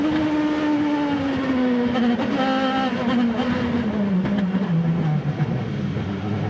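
IndyCar race car at Sonoma in 2009, a single engine note howling steadily then gradually dropping in pitch as it slows, loud and fairly close with crowd-free track ambience behind.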